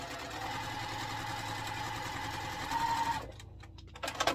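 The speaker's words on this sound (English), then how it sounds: "And just sew down 1/4 inch." A sewing machine stitches a quarter-inch seam on quilt triangles, a fast steady mechanical whir for about three seconds, then it stops and a few soft clicks and handling sounds follow at low volume.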